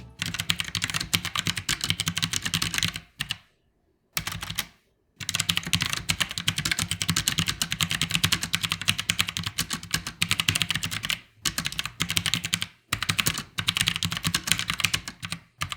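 Rapid typing clatters on a Genesis Thor 401 mechanical keyboard, dense bursts of close, crisp keystrokes broken by a few short pauses, with no voices present.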